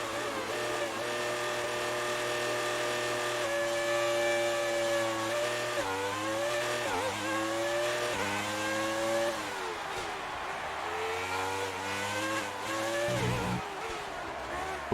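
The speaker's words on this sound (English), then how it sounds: "Listen to that engine." A Formula 1 car engine in the F1 2019 racing game, whining loudly and continuously as it revs up through the gears with repeated rising and falling pitch sweeps, heard up close with no talking.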